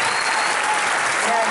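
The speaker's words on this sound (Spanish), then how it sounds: "todo mi agradecimiento y el aplauso de la gente para ti" An audience at an awards night in Chile applauds a singer, a thick continuous burst of clapping that stays loud and even from start to finish.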